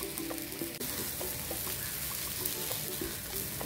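Rawa masala uttappa crisping to golden brown on a pan, with a steady, dense sizzle and frying crackle that holds evenly throughout, close and alone.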